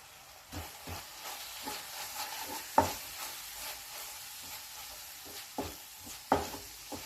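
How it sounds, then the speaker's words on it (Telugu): Spices being stirred into a fenugreek and omelette curry in a pan, with quiet scraping and soft sizzling and a few sharper clinks of the spoon against the pan, with no talking. "1 స్పూన్ కారం కూడా యాడ్ చేసి బాగా కలిపేసుకుందాం"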